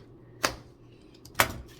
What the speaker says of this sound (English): we're just going to poke these holes right through there